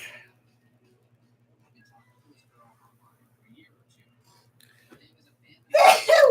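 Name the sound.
sneeze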